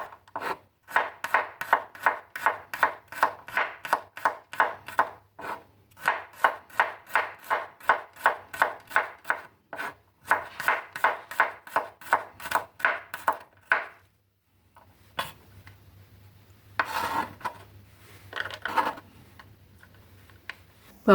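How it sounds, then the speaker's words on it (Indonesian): Steady rhythmic knife chops as four garlic cloves are thinly sliced on a cutting board for Indonesian chicken gulai, quick regular strokes in bursts with short pauses, close and alone, softer scraping toward the end. "4 siung bawang putih, iris-iris tipis juga."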